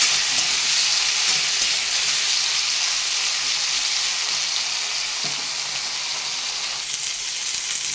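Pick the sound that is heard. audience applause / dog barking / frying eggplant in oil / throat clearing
frying eggplant in oil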